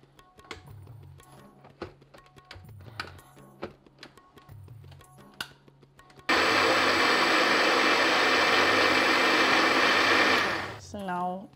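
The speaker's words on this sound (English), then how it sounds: "So we'll add up all our wet ingredients, and this is the milk." A kitchen blender mixes milk and other wet ingredients, starting after several seconds of quieter handling and brief bumps, then running loud and steady for about four seconds before winding down at the end.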